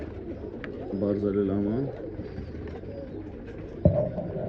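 Pigeons in a breeding loft give a few soft, rolling coos up close, with someone talking over and between them and a brief knock near the end.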